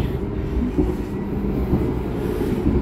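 Argo Bromo Anggrek express train on the Surabaya–Jakarta line, heard from inside an executive-class carriage: a steady, loud low rumble of the running train with faint rhythmic wheel clatter throughout.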